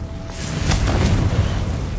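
A Confringo blasting spell explodes in Hogwarts Legacy, a sustained low boom and rumble lasting about two seconds at steady, fairly loud level.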